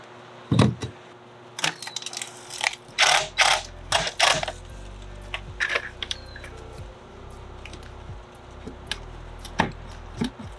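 A metal skunk trap door is lifted and its latch mechanism clatters through a series of sharp clanks, rattles and ratcheting clicks, loud and close with pauses between bursts.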